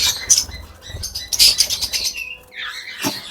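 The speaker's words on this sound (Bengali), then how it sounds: "এই যে এটা হচ্ছে বাজরিগার পাখি।" A budgerigar chirps and squawks nearby in quick, bright bursts, mixed with fluttering and scratchy patter from its cage.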